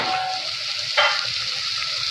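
Ground spices including garam masala, mutton masala, salt and kasuri methi sizzling in hot oil while cooking jackfruit seed curry, a steady close hiss with a brief crackle as they hit the pan.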